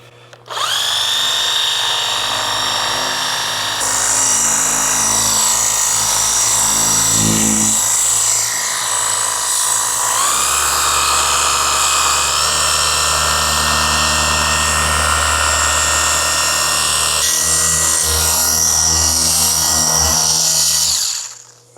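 A Rupes HLR75 3-inch cordless polisher runs steadily on a car hood, a loud continuous motor whine that shifts pitch as the speed setting changes, with no talking.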